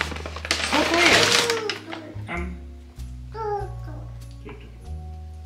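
A cat meows a few short times in a home kitchen during meal preparation, close by, over a steady low hum and other household sounds.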